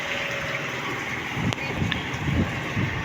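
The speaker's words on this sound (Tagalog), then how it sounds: "Ngayon biglang hangin may hangin-hangin." Sudden gusty wind buffeting a fishing boat at sea, a rushing rumble with a brief gust burst midway and heavier gusts toward the end.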